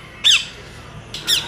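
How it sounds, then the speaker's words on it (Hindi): A pet bird squawks twice, sharp and close, short harsh calls separated by about a second of quiet room tone. "ये देखिए पंछी है, हाँ हाँ पंछी भी धीरे धीरे आ रही है पास में"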